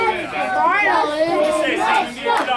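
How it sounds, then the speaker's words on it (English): Crowd cheering and shouting at a baseball game, a loud close wash of voices and whoops that swells and dips across the short stretch. "Why are they cheering on me?"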